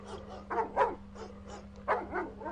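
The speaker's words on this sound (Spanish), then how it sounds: "los perros comenzaron a desesperarse, ladrando, tratando de entrar a la cocina todo el tiempo." Several dogs bark and yip in short bursts, some whimpering mixed in, at moderate distance with a steady low hum underneath, sounding agitated and desperate as they try to get into a kitchen.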